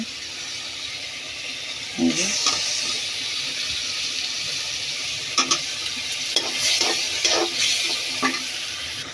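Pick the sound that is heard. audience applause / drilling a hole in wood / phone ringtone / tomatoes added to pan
tomatoes added to pan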